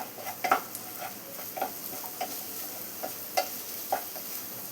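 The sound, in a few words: stirring onions with turmeric in a pan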